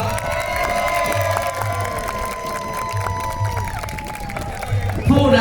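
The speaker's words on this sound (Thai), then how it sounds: "เสียงปรบมือให้กับคุณธรรมนัททองอ่อนครับ" At an outdoor historical show for the King Narai festival, the audience cheers and applauds a lead actor. Loud, continuous crowd noise and clapping mix with sustained tones, swelling in a final burst.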